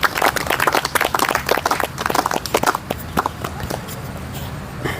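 An audience claps for a patient at a neurotherapy treatment session, a dense burst of applause that fills the first few seconds and then thins into scattered claps.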